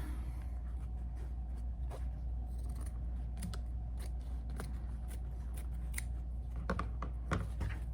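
Scissors snipping through fabric while making a small storage box, a series of light, crisp cuts at an uneven pace over a steady low hum, close and quiet, with no speech.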